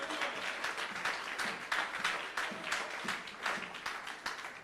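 A church congregation at a Sunday service applauding, steady sustained clapping from many hands with a dense, moderately distant rhythmic texture throughout.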